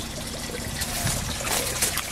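Water trickling and draining down a bell siphon stand tube in an IBC aquaponic grow bed, a steady close splashing dribble that runs continuously.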